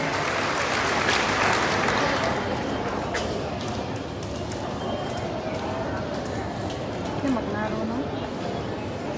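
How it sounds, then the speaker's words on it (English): Graduation ceremony audience applauding an honoree, a broad, moderately loud patter of clapping from a large crowd that tapers slightly, with voices and chatter mixed underneath. "Another round of applause for Christine Joy A. Manangin, cum laude."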